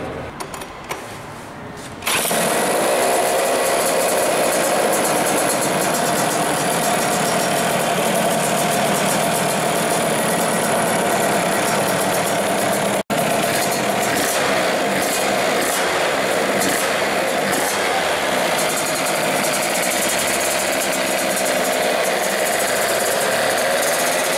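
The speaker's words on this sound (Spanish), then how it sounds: "hemos cambiado el chicle de 25 por uno de 105 y ahora vamos a ver qué sonido hace la moto" A motorcycle engine with its carburetor jet swapped from a 25 to a 105 runs steadily and loud close by, starting after a short quieter moment and holding a continuous buzzing idle for the whole stretch.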